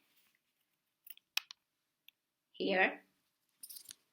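Scissors cut strips of kinesiology tape in a few quiet, close snips and clicks, with one short spoken word.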